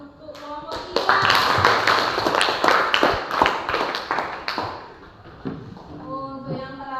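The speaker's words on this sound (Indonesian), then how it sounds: "beri aplaus untuk kelompok 3" A classroom group claps for a presenting team, many hands in a brisk scattered patter that swells quickly and tapers off over several seconds, with voices speaking at the start and end.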